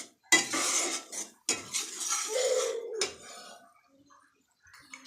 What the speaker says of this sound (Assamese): এয়া গুড়খিনি দি এনেকৈ ভাজি আছোঁ। অকণমান সময় এনেকৈ লৰাই থাকিম।